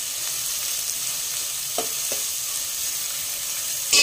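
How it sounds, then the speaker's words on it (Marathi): Sliced onion frying over a high gas flame for methi matar malai, a continuous close sizzle with a couple of brief scraping stirs of the spatula, no voices. "एकदम गुलाबीसर होईपर्यंत कांदा परतून घ्यायचा आपल्याला"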